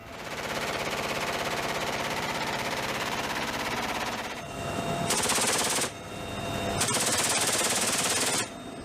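A 12.7mm heavy machine gun fires loud, sustained automatic bursts at a high cyclic rate, with a brief gap and then another long burst close by, and no speech.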